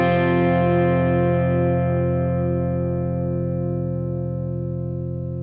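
A single sustained electric guitar note played through a Keeley Aria compressor pedal rings out steadily, loud and even, slowly decaying with a long tail and a touch of reverb and delay shimmer.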